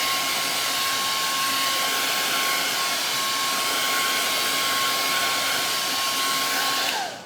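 A hair dryer blows on stencil paint on a wooden sign, a loud, steady whine with a thin high tone, running alone for about seven seconds before shutting off.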